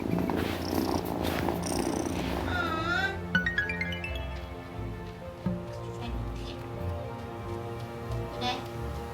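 A cat in the video game Wylde Flowers purring steadily and close, a soft continuous rumble alongside game music and chimes, with a short voice early on.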